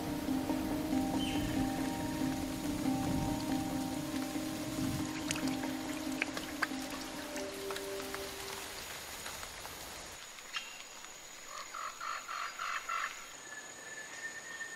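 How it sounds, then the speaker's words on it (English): Heavy November rain pours down in a Colombian wilderness at the end of the rainy season, a dense, steady hiss of drops with frogs calling and piping throughout, the downpour thinning in the final seconds. "a November downpour marks the end of the 8-month rainy season"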